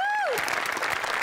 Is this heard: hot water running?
no